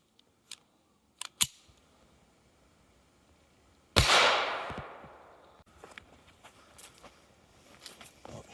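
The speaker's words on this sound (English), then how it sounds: "Starting with a little Taurus 22 pistol." Shots from a small Taurus .22 pistol striking cheap body armor: a few sharp cracks early, then one louder bang with a decaying ring, followed by scattered quieter clicks and handling noises.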